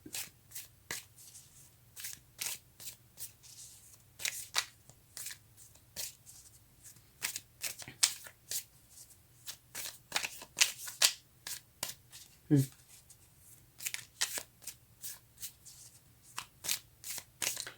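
Tarot cards being shuffled by hand, a quiet close sequence of quick riffling and slapping bursts in an irregular rhythm, alone, with no talk over it.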